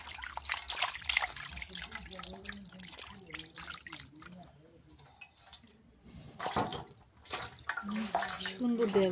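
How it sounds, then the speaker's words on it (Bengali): Hilsa fish washed under running water in a kitchen, with trickling, dripping and splashing throughout and a louder gush of flow later, while a person talks over it. "মাছটা ধুয়ে নি"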